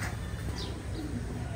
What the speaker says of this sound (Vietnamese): Và bồ câu nó đi theo cặp theo đôi nhá